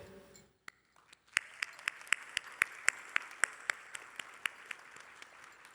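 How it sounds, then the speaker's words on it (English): Scattered clapping at a high school graduation ceremony: a small number of sharp, distinct hand claps in a fairly steady rhythm, moderately close, with no continuous crowd roar behind them. "Now let's take a moment to applaud to the students who made it all the way here."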